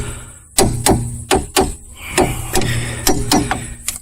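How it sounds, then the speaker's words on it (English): A series of sharp metallic taps from a hammer striking a car's tie rod end, about nine strikes at an uneven pace, ringing briefly against a quiet background. "I'll take a hammer and I'll go over and I'll kind of tap it."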